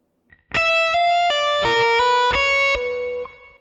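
An electric guitar plays a short lick, several notes sliding between pitches with a bright, slightly distorted tone, starting after a brief pause.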